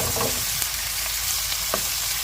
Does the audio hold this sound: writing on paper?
no